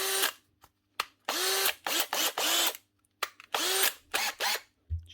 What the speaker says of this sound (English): She's an older type drill.